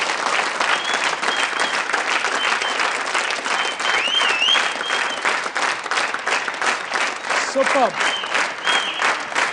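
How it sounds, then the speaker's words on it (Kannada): Steady studio audience applause on a Kannada quiz show, dense continuous clapping filling the whole stretch, with a brief spoken exclamation heard over it. "ಚಪ್ಪಾಳೆ ಹೊಡಿರಿ, ಚೆಕ್ ಬರೆಯೋಣ."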